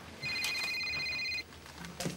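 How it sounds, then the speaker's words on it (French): A telephone rings in an office with a clear electronic warble, one long ring burst followed by a short gap and the start of another, fairly close and alone without talk. "Allô? Oui, Stéphane."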